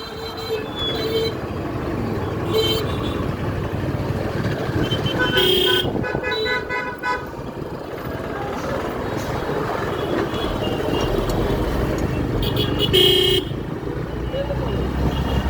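Several short horn toots sound over steady road traffic noise, repeated at intervals through the clip, with voices talking faintly in the background.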